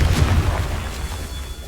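A Confringo blasting spell explodes in Hogwarts Legacy with a deep, rumbling boom that stays heavy and low for the whole short moment, with no talking over it.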